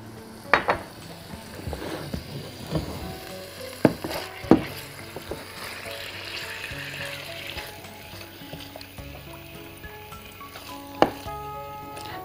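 Meat fries in a pan with a soft, steady sizzle, broken by a few sharp utensil clinks and taps against the pan, close and moderately quiet.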